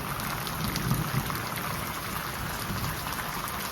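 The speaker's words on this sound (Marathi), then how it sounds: "पाऊस आला टायमावर" Steady rain pours down on a Lakshmi Puja day, a dense, even hiss of falling water close by with no speech.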